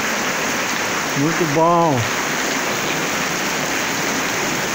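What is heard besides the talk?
rain falling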